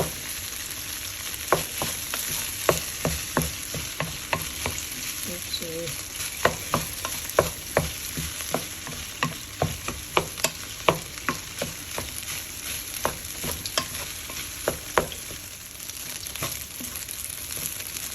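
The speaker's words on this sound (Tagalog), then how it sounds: "1 tablespoon of fish sauce, and then start now mixing" Fried rice with pineapple, tofu and fish sauce is stir-fried in a hot pan: a continuous sizzle with frequent sharp clicks and scrapes of the spatula in a quick, uneven rhythm, close and fairly loud. No voices.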